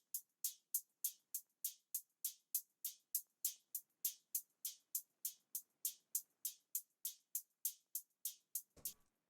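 West Coast wavy-beat hi-hat treated with EQ, reverb, delay, flanger and halftime: a steady, even stream of crisp, airy ticks repeating about three times per second, soft and isolated, ending in a short noisy burst.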